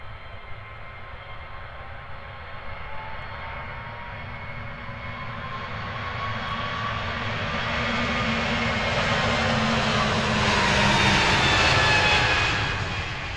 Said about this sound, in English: Beautiful rotation there from the A320neo